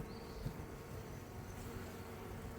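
Honey bees in an opened, lightly populated hive holding only a couple of frames, giving a steady low drone of buzzing close by with no talking.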